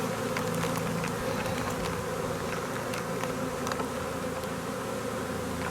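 Dense honeybee swarm clustered in front of a hive, giving a steady, close, continuous buzz from many bees that holds evenly the whole way through, with no voices.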